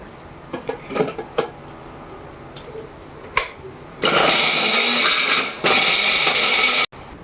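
A mixer grinder running in a kitchen, grinding ingredients for a jackfruit curry: a few faint clicks and knocks, then two loud, harsh whirring bursts of several seconds each with a brief pause between them.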